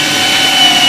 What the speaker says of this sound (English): So I'm going to go ahead and line this up, drill this hole.